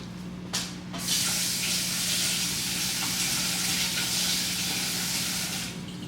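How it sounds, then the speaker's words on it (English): Tap water runs steadily into a kitchen sink as something is rinsed off while making iced coffee, a continuous loud hiss after a couple of brief splashes at the start, with no talking. "So I'm gonna rinse that off."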